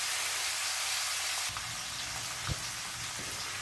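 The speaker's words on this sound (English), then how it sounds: "Okay, so I've cooked these pork chops for about 12 minutes" Thin pork chops fry in a pan with a steady, close sizzle that steps up in intensity partway through, with a brief clunk near the end.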